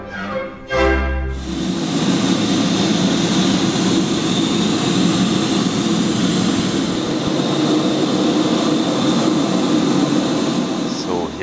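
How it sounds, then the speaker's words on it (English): Steady jet engine roar inside the cabin of a Czech Airlines Airbus A319 in flight, operating a Eurowings service from Stuttgart, a continuous broad rumble and hiss that holds evenly after a brief bump at the start. "We are in an Airbus A319 of Czech Airlines"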